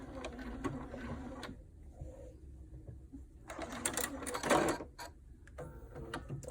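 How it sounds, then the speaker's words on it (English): Sewing machine backstitching at the end of a seam on a fabric doll, with bursts of rapid mechanical stitching and pauses between runs, close and moderately loud. "I'm gonna backstitch."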